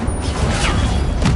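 Incendio fire spell cast in Hogwarts Legacy, a loud dense burst of roaring whooshing noise with surging rushes, heard alone without talk.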